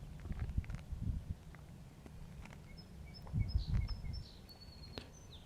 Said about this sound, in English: A lot of birds in the background.